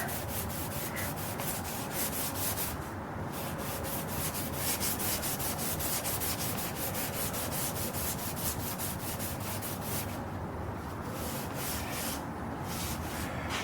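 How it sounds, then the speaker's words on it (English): Very old, worn sandpaper rubbed by hand over an epoxy-coated flag project's gold striping, a steady rhythmic scratching of back-and-forth strokes that continues close and loud throughout with short pauses. "Yeah, see there, starting to fall apart. Very old sandpaper."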